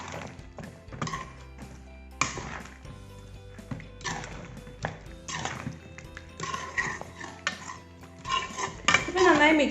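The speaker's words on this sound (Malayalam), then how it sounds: "അപ്പോൾ നമുക്ക് ഫസ്റ്റ് ഒന്ന് മിക്സ് ചെയ്ത് കൊടുക്കാം." A spoon stirs a Mughlai chicken mixture with almonds and dried chilies in a metal pot, giving repeated scraping and clanking strokes at an uneven rhythm, close by, with a faint sizzle underneath.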